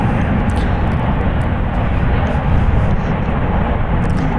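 Alaska Airlines jet at San Francisco International Airport, a steady loud broadband engine roar that holds evenly throughout with no letup and no voices.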